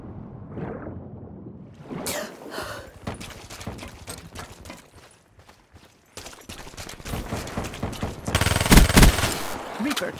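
Machine gun fire in the video game Call of Duty Black Ops III comes as sharp rapid bursts. A brief lull is followed by a heavier, louder burst near the end.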